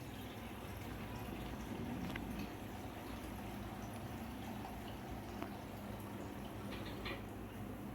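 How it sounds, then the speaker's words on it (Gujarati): Spices for pulao sizzle in hot oil as a vaghar tempering, giving a steady, faint, hissing crackle that runs unbroken with occasional light pops. "તો જો આ પુલાવનો મસાલો વઘાર તૈયાર થઈ રહ્યો છે"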